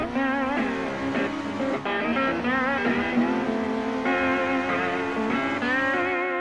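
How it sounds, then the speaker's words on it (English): Race car engine in a sim racing game on the Targa Florio road circuit, revving and whining continuously as the car slides and accelerates, a loud steady drone with shifting pitch and a brief dip near two seconds. "You slide the car through as you accelerate again"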